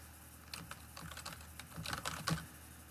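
Typing a command on a computer keyboard, a quiet, irregular run of close key clicks over a few seconds.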